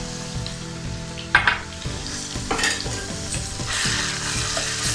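Ginger garlic paste frying with onions in a pan while being stirred, a steady sizzle with clinks and scrapes of the spoon against the pan, close and fairly loud throughout.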